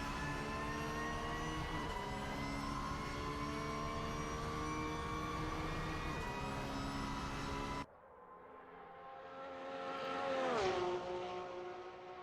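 A Porsche GT3 race car in a sim racing GT3 league at Bathurst, its engine droning in a long steady high pitch, then cutting to a quieter pass that swells and fades.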